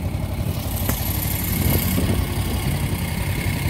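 A 1970 Moto Guzzi Ambassador motorcycle engine idles at a gas station, a steady, close, loud rumble throughout.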